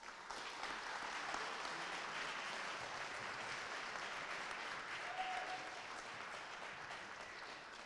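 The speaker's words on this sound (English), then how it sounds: "I'd like you all to give him a round of applause." A crowd applauds steadily, a dense wash of clapping that holds for several seconds without pause.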